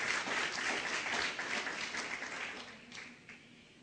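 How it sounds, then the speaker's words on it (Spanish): A church congregation applauds during a worship service, a steady wash of clapping at moderate distance that tapers off toward the end. "Un aplauso al Señor."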